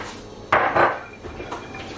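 A lid set onto a cooking pot while making owo soup: a sharp metallic clank followed by a second rattling clatter as it settles, then faint scraping, close and clear with no talking.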